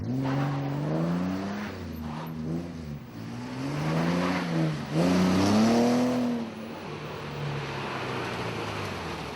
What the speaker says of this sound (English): Bob Rutherford seems to be pointing every way but the one that Jerry Brown is driving in